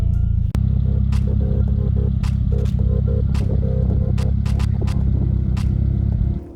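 A Toyota MR2 drives along with a loud, steady engine drone and a low rumble, marked by scattered light clicks and rattles, before the sound fades out at the end.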